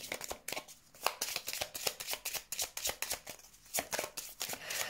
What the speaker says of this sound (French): Je vais tirer encore quelques cartes.